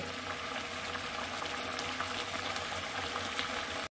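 Fish curry gravy with rohu bubbles steadily in a pot, a dense, even simmering hiss with soft popping that holds constant throughout and stops abruptly at the end.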